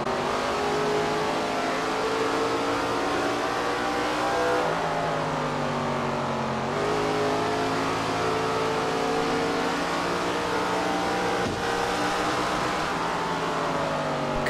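Race car engine lapping Walnut Creek, a short dirt oval, in SRX The Game, droning steadily and close with rising and falling revs as the car cycles through the turns, no voices.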